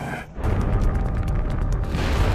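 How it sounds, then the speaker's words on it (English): A massive explosion of a rocket fuel storage area: a deep, sustained boom with a rolling, crackling roar that fills the whole stretch, loud and close. "As the explosion erupts, a powerful shockwave careens across the landscape"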